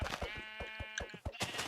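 A sheep in a video game gives a single drawn-out bleat, close and clear, among rhythmic thumping game sounds.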